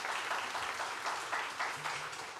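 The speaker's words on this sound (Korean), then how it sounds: "우리 목사님께 큰 박수로 축복하십시다." A church congregation at a Korean revival service applauds steadily, a dense wash of clapping from many hands that sounds moderately distant and keeps an even level throughout.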